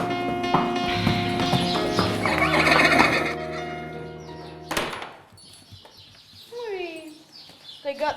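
Horses neigh loudly with long whinnies, then hooves clop and thud amid a softer neigh and bird-like chirps, with voices speaking in the background.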